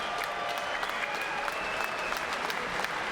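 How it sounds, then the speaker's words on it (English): Crowd applause for two boxers at the end of a four-round pro boxing bout, a steady dense wash of clapping through the arena with faint voices mixed in. "can we have a round of applause for both of these fighters?"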